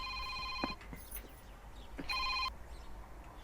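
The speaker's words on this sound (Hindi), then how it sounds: "लैंडलाइन पे फोन आ रहा है" A landline telephone rings indoors in two short electronic trilling bursts separated by a pause, fairly quiet, with no one speaking.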